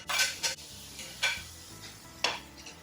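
Chopped smoked brisket is tipped into a pan of dirty rice and stirred, with a few sharp scraping strokes of a spoon over a soft, steady sizzle.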